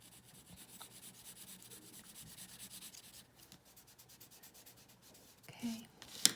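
A finger softly rubs pencil graphite across drawing paper, a faint, close, continuous whispery friction with gentle strokes, ending with a couple of small taps and a brief rustle.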